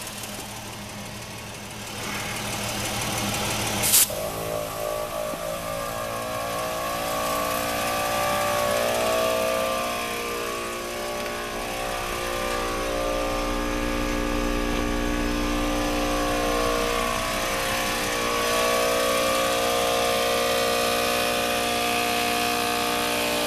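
An ARB portable air compressor fills an off-road tire from about 10 psi, a steady droning motor hum that starts with a sharp click and runs continuously nearby without speech.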